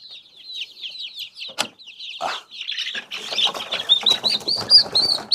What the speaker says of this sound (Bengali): দেখেন একটা মুরগি আমি তো দেখাই